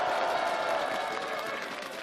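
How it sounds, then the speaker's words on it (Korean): Crowd applause at an outdoor election campaign speech in Suwon in cold weather, a sustained burst of clapping with faint crowd murmur beneath, easing slightly toward the end. "고생하시는데 박수 한번 부탁드립니다."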